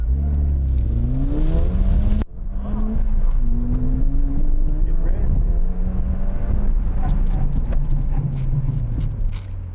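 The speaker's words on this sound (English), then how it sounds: "Real great, real good acceleration from first to second gear, real hard braking as you saw there" A 2014 Ford Fiesta ST runs a slalom course, its engine revving up hard and loud, dropping sharply at a gear change, then climbing again under wind buffeting and a talking voice.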